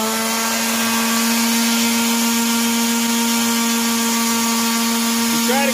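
A sharpening machine for wood lathe chisels runs as a loud, steady motor whine with a constant hum from start to finish, with no talk over it.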